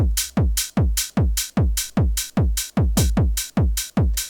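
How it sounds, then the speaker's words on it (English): Open hi-hat hits ring out in a steady, even rhythm, about two per second, each bright sizzle decaying before the next, with a low thump layered under each hit. "I can have some open hats that sound like this,"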